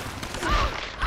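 A short burst of gunfire from the video game Tomb Raider 2013, a brief clustered volley of shots with low booming thuds, moderately loud over game ambience.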